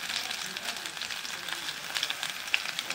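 Ginger garlic paste sizzling in a hot pan while a fish curry with yam cooks, a steady soft crackling fry with faint stirring scrapes, fairly quiet and close.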